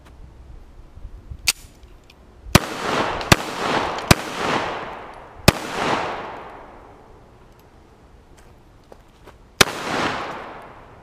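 Sharp .44 Special gunshots hit a wooden target outdoors in a backyard, six loud cracks at irregular intervals, each trailing off in a long rolling echo, with quiet gaps between.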